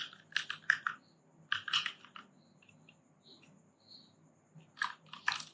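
Bursts of quick typing on a computer keyboard, entering a search, with crisp close key clicks in short clusters separated by quiet pauses; no one speaks.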